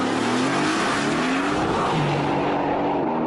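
A Mercedes-AMG GT with its 510-horsepower M178 biturbo V8 passes close, the engine note revving and shifting pitch in a loud, continuous burst.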